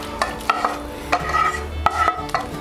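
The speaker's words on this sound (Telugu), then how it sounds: "పన్నీర్ మొత్తం కలిపిన మిశ్రమాన్ని ఇప్పుడు ఈ బౌల్లో కలిపేసుకోవాలి" Paneer masala mixture is stirred into rice in a bowl with a spoon for paneer biryani, giving repeated close, sharp scrapes and taps in an uneven rhythm over a faint background hiss.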